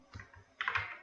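Quiet, close keystrokes on a computer keyboard while entering text into an Excel spreadsheet, a short burst of a few light taps with no voices.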